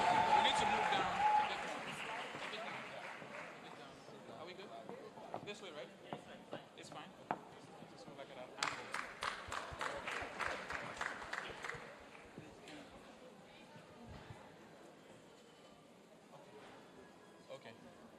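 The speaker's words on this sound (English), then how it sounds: "please let me hear you make some noise and give them a resounding round of applause" An audience at a women's day conference bursts into applause that swells and then fades to scattered claps, with cheering and voices in the crowd.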